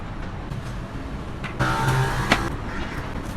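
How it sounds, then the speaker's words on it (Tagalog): Cars pass along a nearby road in a steady low wash of traffic, with one vehicle swelling louder in the middle before fading back into the background hum. "kaya naman kung maririnig nyo ay marami talagang sasakyan dumadaan dito"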